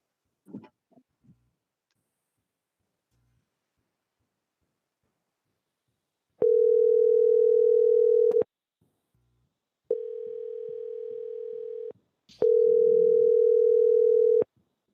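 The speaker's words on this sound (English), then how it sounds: "We'll just call you right now, Joel, and then you'll go on a phone line" Steady telephone dial tone on a line being dialed into for a remote board meeting, sounding in three long, loud, even bursts of about two seconds each with short gaps between them, after a few faint knocks and no talk.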